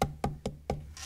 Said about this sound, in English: you want to go to everybody's house and knock on the door?